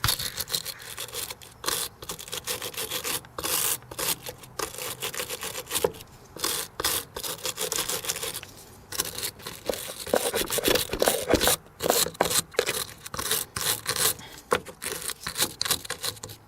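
Brisk scrubbing strokes work corrosion off RV parts, a close, rapid back-and-forth rubbing that pauses briefly now and then.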